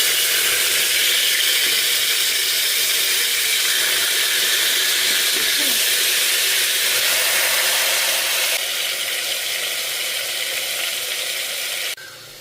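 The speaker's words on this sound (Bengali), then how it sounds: "এইবার ম্যারিনেট করা যে মটনটি রয়েছে সেটি দিয়ে হাই ফ্লেমে 10 মিনিট কষাও" Marinated mutton frying over a high flame for a coconut mutton dish, giving a loud, steady sizzling hiss that holds nearly unchanged throughout and drops slightly at the very end.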